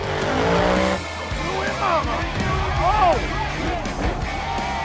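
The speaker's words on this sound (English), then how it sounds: "these monster trucks are dangerous" Monster trucks roar and rev through an NBA arena, engines loud and continuous with tire squeals and skids echoing indoors, a crowd or voices blended beneath.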